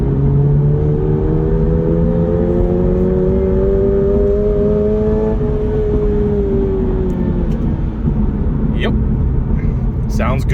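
A 2022 Toyota GR86 with a manual gearbox and a 7,500 rpm redline revs hard. Its engine note climbs steadily for several seconds, then eases off and falls away, loud and continuous throughout.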